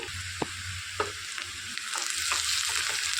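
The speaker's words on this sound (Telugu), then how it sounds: "ఇందులోనికి ఒక రెప్ప కరివేపాకు కడిగి తీసుకొని వేసుకోవాలి మొత్తం మంచిగా వేయించుకోవాలండి" Green chillies and curry leaves crackle and sizzle in hot oil for a bitter gourd tomato curry, with a few sharp taps of a stirring spoon over a steady frying hiss.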